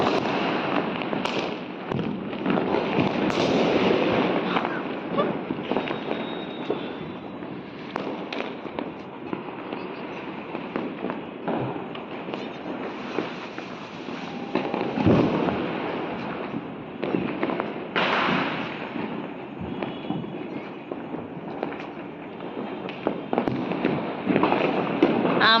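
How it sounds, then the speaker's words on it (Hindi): Diwali firecrackers and fireworks burst continuously across Ahmedabad, heard from a rooftop: a dense, crackling barrage of pops and bangs, some near and sharp, others distant, with faint voices underneath. "और बहुत सारे पटाखे फूट रहे थे, रोशनी ही रोशनी लग रही थी।"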